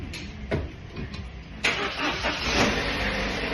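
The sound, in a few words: car engine starting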